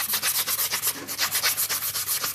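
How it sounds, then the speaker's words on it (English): An edge-breaking tool deburrs CNC-cut wooden pieces in rapid, rhythmic rasping strokes, about ten scrapes per second, close and fairly loud with no talking. "So I just want to deburr all these from the CNC machine."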